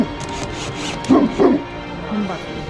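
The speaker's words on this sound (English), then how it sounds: "What he's barking at?" A dog barks outdoors near a cabin build site, giving a few close, rough barks and yips in a short cluster, then a softer one, over steady background noise.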